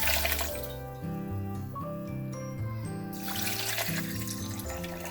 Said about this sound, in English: lastly I'm gonna add some water.